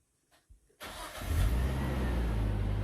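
A Nissan Skyline R34 GTT gives a few soft clicks, then cranks and catches immediately, roaring up before settling into a steady, fast idle close by.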